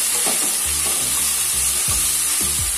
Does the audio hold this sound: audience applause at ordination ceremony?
no